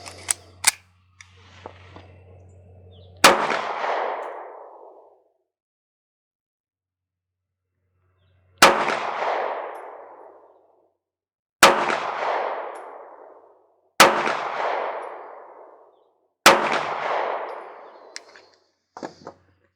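Five loud, sharp pistol shots from a Smith & Wesson Bodyguard 2.0, fired one at a time at a range with several seconds between each, every crack trailing off in a short echo.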